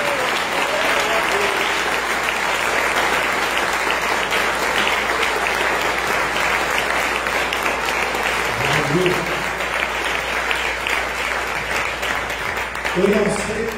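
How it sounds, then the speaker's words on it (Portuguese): Sustained applause from a church congregation at an anniversary service fills the whole stretch, steady and fairly loud, with a voice calling out faintly near the end. "Aplausos para Jesus."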